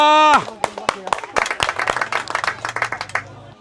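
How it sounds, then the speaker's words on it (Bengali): A short voice, then a small crowd claps briskly and unevenly for the winner of an outdoor village game of steering a tyre with a stick between two pipes, the claps close and lively before trailing off. "করতালি ভাই একটা।"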